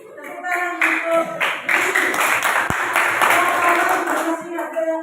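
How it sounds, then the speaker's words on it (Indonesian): Applause from an audience in a classroom or presentation setting, sustained clapping from many hands for about five seconds with voices mixed in. "Tepuk tangan untuk"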